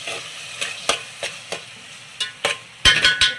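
Tomatoes frying in a pan for chicken biryani, soft sizzling punctuated by repeated sharp stirring scrapes and clinks of a spoon against the pan, close and alone.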